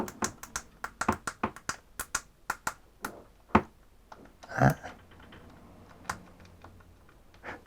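Sharp keyboard clicks come in a quick run of presses on a repaired keyboard with a faulty mylar membrane, then slow to scattered single taps with a brief rustle in between.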